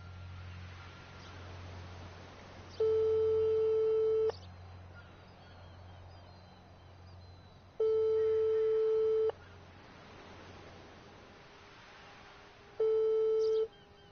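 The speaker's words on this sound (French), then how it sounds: "Ça sonne." Telephone ringback tone during a prank call: three long steady tones with silent gaps between, over a low hum and faint room noise.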